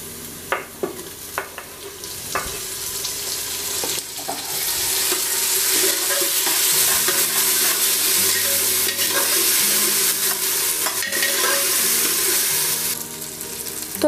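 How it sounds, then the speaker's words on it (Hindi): Chopped tomatoes sizzle and hiss in a pan with lightly browned onions in a little oil for mixed vegetables, stirred with scraping spoon strokes; the frying swells louder and steady after a few seconds of clinks. "जैसे ही अनियन हल्की ब्राउन हो जाए हम इसमें चॉप टमाटर डालेंगे।"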